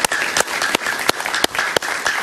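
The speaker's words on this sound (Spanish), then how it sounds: "Un aplauso para ellos, por favor." Audience applause at an event in Venezuela honoring a journalist and his daughter: a dense wash of many hands clapping, with a few sharper, louder claps popping out at irregular moments.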